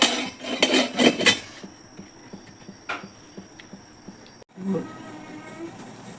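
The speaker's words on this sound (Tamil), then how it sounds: "முடியிடுமா அது ஓகே மூடியை வச்சு மூடிடுவோம்" A metal lid is set onto an idli pot on a home stove, giving a few sharp clanks and clinks near the start, then a single knock and a final clatter, with light kitchen background.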